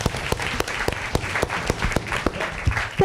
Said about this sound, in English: And I think we should also welcome her with an applause.